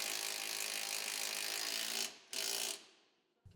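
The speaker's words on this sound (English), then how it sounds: "you can now tighten down all of the hardware holding on the rear shocks" A hand ratchet tightens the rear shock mounting hardware on a Polaris RZR RS1 or RZR XP side-by-side. It clicks in a fast, steady, close-up run, stops briefly, gives one more short burst, then falls quiet.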